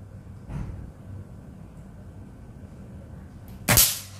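A PCP mini AWM air rifle fires at a small metal silhouette target. A soft thump comes early, then after a quiet pause a single loud, sharp shot near the end with a short impact tail.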